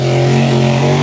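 Racing boat engines at San Diego Bayfair, a hydroplane race event, drone steadily with a loud, sustained mechanical roar throughout, no voices heard.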